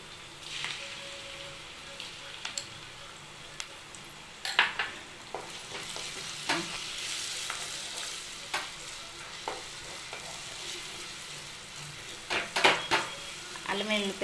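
Ginger garlic paste frying with onions and green chillies in a pan for chicken curry, a steady close sizzle with stirring scrapes and clinks throughout, rising in brief louder bursts near the end.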